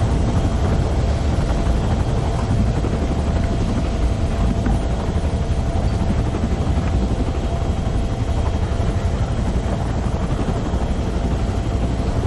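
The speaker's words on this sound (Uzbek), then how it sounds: "Men vertolyotda birinchi marta uchyapman." A helicopter in flight drones steadily and loudly throughout, a dense continuous rotor and engine roar with no talk heard.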